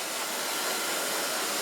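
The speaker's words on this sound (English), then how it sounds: "So far blow drying." A hair dryer blows on freshly dyed pale pink pixie-cut hair, a loud, steady broadband whoosh of air held close and unbroken throughout.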